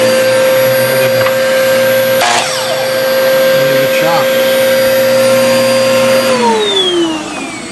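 An old vacuum cleaner hooked up to a saw in a workshop runs loud and close with a steady high whine, then winds down in pitch near the end as it switches off.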